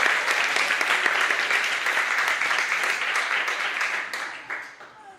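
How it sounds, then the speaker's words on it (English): Audience at a magic show breaking into a round of applause, dense and fairly close, many hands clapping steadily before thinning and fading out toward the end. "why don't you just give me a round of applause if you have a partner"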